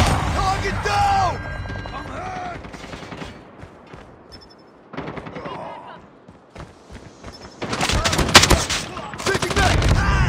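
Shotgun fire in the mobile game Call of Duty Mobile, several loud booming shots in bursts mixed with other game effects and clattering action, with a louder cluster of blasts near the end.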